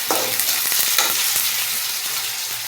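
Ginger-garlic paste frying with browned onions in a pan for a tomato prawn bhuna, a steady broadband sizzle with repeated scraping stir strokes throughout, close and fairly loud, no talk.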